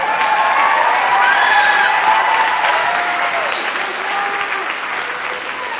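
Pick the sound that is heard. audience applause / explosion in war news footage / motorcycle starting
audience applause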